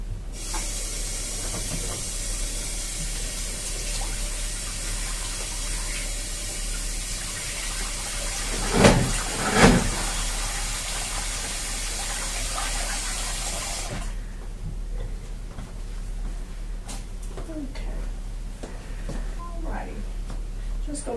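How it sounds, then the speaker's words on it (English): At a sink during a nursing assessment, a tap runs in a steady broadband hiss while a nurse washes her hands, with two brief louder splashes midway; the water stops abruptly partway through, leaving quieter room sound. "First, I'm going to wash my hands."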